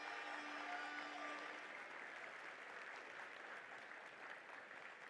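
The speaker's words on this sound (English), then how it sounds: "Let's give a round of applause for all of our amazing volunteers here this weekend." A large event audience applauds volunteers with steady, dense clapping that continues throughout, with a faint tone heard early on.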